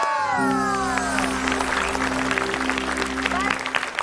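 Studio audience at an Indonesian comedy show, Waktu Indonesia Bercanda, applauding the guests, a loud steady clatter of clapping with sustained music tones beneath and rising musical sweeps over it.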